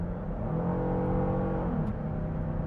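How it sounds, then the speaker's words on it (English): A 2026 Kia Carnival EX engine revs under acceleration in sport mode, a steady moderate drone heard from inside the cabin with gently rising pitch, no talking. "you can hear that engine more while I'm hitting the accelerator"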